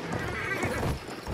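A horse whinnies once in a World War I video game, a loud, wavering neigh lasting about a second, with some faint hoof clatter and battle noise around it.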